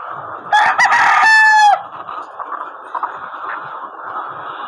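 Layer chickens in an H-type belt-system cage, with a nearby rooster crowing loudly over a dense background of many hens clucking and murmuring.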